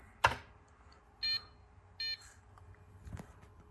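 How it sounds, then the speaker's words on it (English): A Raspberry Pi attached to a Commodore 64 gives two short electronic beeps while loading, quiet and distinct in a calm room, between a click and a soft knock. "That beep is from the Raspberry Pi, signifying that it's loading."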